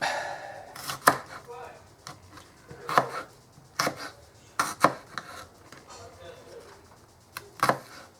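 Food is chopped on a board with a knife in sharp irregular knocks, some quick pairs, close by, while someone talks quietly and birds coo in the background.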